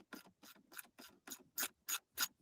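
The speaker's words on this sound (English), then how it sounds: "He knows how to put a bolt on a battery." A bolt is fastened onto a battery with a ratcheting tool, giving eight quick, evenly spaced clicking strokes that grow slightly louder toward the end, heard up close with no voices.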